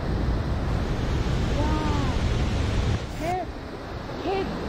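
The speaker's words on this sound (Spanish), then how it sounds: "Cuando el agua choca con el piso, prácticamente sale como un fuego blanco, y miren, una brisa blanca." Cascada de Fuego waterfall in Valle de los Chillos, a steady, loud rushing roar of falling water crashing onto the ground throughout, with brief faint voices over it near the end.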